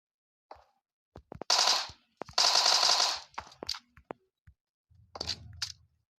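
PUBG Mobile gunfire: two long rapid automatic bursts, scattered single shots in between, then a duller, more distant burst at the end.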